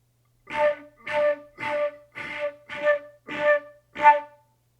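Seven short, punchy notes on an Irish flute using glottal articulation, in a steady series, each attack sharp and slightly gruff, with brief silences between them; no talking.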